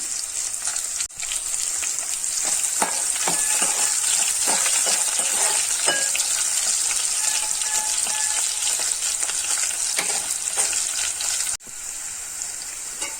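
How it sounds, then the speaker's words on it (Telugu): Garlic, added generously, fries and sizzles steadily in hot oil in a pan for Andhra-style palak dal, with a continuous bright crackle and occasional stirring clinks, close and loud throughout. "తెల్లగడ్డలు ఎక్కువ వేసుకుంటున్నానండి."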